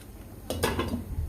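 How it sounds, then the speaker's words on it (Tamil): Metal lid set onto a cooking pot of Chettinad fish gravy, two quick close clanks followed by a short rattle as it settles, in an otherwise quiet kitchen. "இதை கொஞ்சம் கலந்து விட்டு அப்படியே ஒரு மூடி போட்டு விட்டுக்கலாம்."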